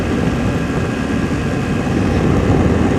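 A small airplane's piston engine drones steadily in flight at about 5,000 feet, a loud, even, continuous hum with a low rumble and no voices.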